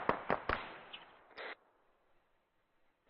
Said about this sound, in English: Also, explosion on the south side, on that small HQ building.